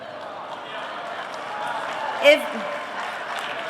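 Audience at the CPAC Ronald Reagan Dinner applauding, a soft, diffuse wash of many hands clapping heard from a distance, steady throughout with one brief louder knock near the middle.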